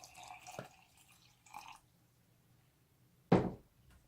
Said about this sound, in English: Pour a little bit of water in there.